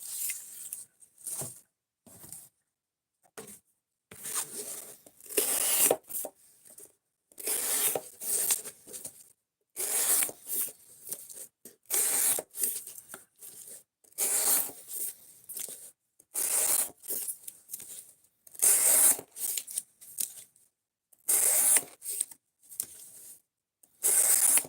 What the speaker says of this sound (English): We're looking to see how long it takes the cardboard to just totally fuck the edge of this knife up.